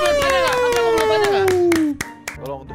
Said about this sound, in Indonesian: Keren, tepuk tangan guys.